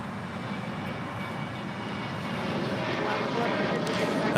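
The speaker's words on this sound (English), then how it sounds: "That was Singapore Airlines Flight 12 coming from Tokyo to Rita on a 777-300ER." A Singapore Airlines Boeing 777-300ER at LAX, arriving from Tokyo, gives off a low, distant jet rumble that swells gradually louder toward the end, with faint talk underneath.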